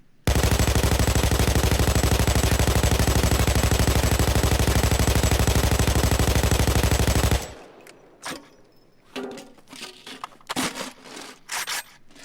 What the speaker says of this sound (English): now I'm showing you how the grouping kind of works, or full auto all the way.